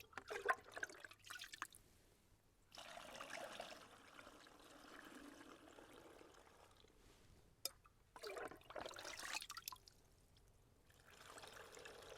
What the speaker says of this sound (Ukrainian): Сіль і цукор уже розчинився, буду розливати по відрах.